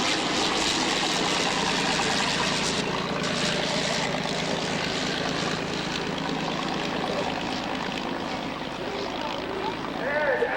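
A vintage propeller airplane comes in to land at an air show. The engine drones loud and steady, with a raspy, continuous roar and crowd ambience underneath.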